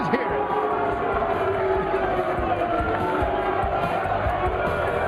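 Arena crowd at the 2012 Mosconi Cup pool event roaring and cheering steadily for player Dennis after a shot, a dense, sustained wall of noise with shouting voices mixed in.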